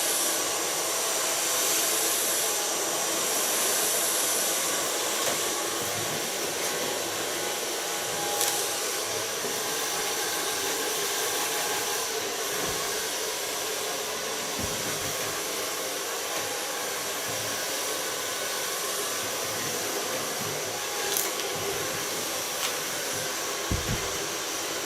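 A hair dryer blows hair dry in a salon setting, a loud, steady rushing drone that holds nearly unbroken for the whole stretch with only slight shifts as it moves.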